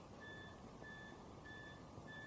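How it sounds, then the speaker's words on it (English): Steady reversing beeps from a vehicle, evenly spaced about every half second, sounding at a moderate distance over a constant low rumble of background noise, heard during Minecraft gameplay. "It's just a person backing up."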